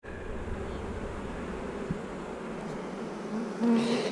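Honey bees hum around the hives in a steady, close drone, with a few louder passes near the end and no talk.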